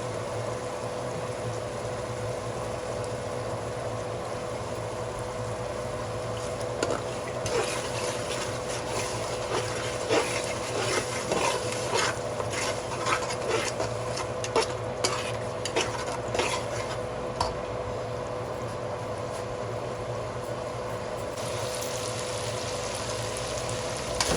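Half a cup of yogurt stirred into masala frying in ghee in a pot for chicken biryani pulao, with steady close scraping and stirring, soft sizzling and occasional utensil clinks throughout, no talking.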